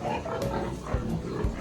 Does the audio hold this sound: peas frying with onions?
no